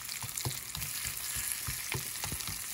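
Curried chicken and potatoes fry in a cast iron skillet, giving a constant faint sizzle with scattered pops and scrapes of stirring. No one speaks.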